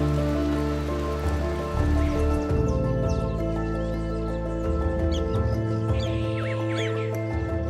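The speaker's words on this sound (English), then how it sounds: "They know the rain is entirely good news." Steady rain patters on surfaces in Uganda, a constant close hiss beneath sustained tonal sounds that shift in pitch, with no voices.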